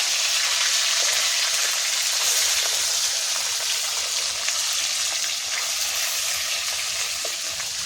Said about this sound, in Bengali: ভালোভাবে লাল লাল করে মাছগুলো ভেজে নেবে